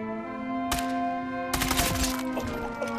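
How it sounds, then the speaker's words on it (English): Gunfire in the video game Sniper Elite 5: two sharp shots ring out over a steady humming in-game music drone, the second followed by a brief rattling burst and echo. "Good shooting there, Cal."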